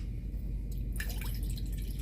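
Distilled water is poured into a snow globe bowl, giving a soft, close trickle and splash that picks up partway through over a steady low background hum.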